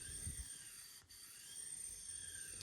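A sharpening stone is rubbed flat on an iron lapping plate, producing a steady, close, even grinding hiss with a high whine, with a brief dip in the middle and no talk.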